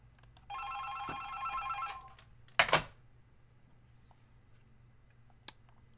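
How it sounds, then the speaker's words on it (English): An old-style telephone bell gives one brisk ring lasting over a second, followed by a clattering handset or mechanical knock and a few faint clicks in a quiet room. "Persistent phone caller."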